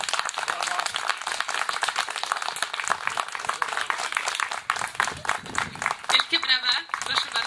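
An audience applauds after an opera singer's short recital, giving sustained, crowded clapping with voices talking over it and a brighter burst near the end.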